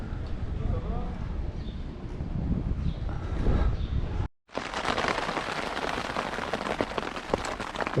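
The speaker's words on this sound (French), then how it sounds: "Ça fait 3 heures, qu'il pleut" Steady rain falls outside a tent pitched at a seaside campsite, a dense hiss of drops that continues after a short break, with muffled noises and a voice heard in the first half.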